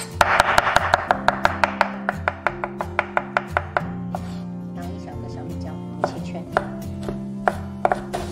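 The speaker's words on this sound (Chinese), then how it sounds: "一些大蒜给它拍碎切成末" A knife chops crushed garlic into mince on a board, quick close rhythmic strikes that slow and thin out toward the end, with a voice talking and soft music underneath.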